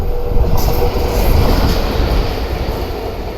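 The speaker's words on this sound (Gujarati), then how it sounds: "ફૂલ સ્પીડ જાય છે" A non-stop train roars through Lathi station at full speed, loud and close, with a heavy rumble and rattling wheels filling the whole moment.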